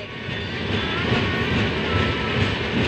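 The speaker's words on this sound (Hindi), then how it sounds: "देखिए फ्रेंड्स हमारे बाजू में ही खड़ी है ग्वालियर बनारस एक्सप्रेस" Loud, steady rumble of the Gwalior–Banaras Bundelkhand Express at Gwalior Junction, heard close up as a continuous roar of rolling stock and engine with no talking.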